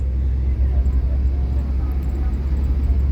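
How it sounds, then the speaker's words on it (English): Steady low engine rumble and road drone from inside a moving sleeper bus on the way to Goa, continuous and fairly loud with no clear breaks. "This is the sleeper buses."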